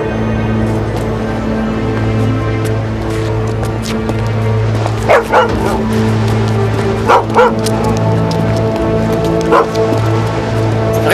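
Dog yipping and barking in a few short sharp bursts over a steady humming, droning background, with soft whimpers between; no one speaks.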